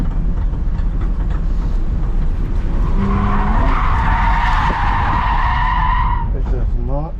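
At a drift event, a drift car spins donuts, its tires screeching in a long loud skid over the roaring engine, the squeal rising and wavering before cutting off.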